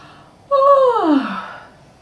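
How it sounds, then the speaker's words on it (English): A single drawn-out yawn with a voiced, descending moan that rises sharply then slides down and fades into a breathy exhale. "I like to make a noise when I yawn."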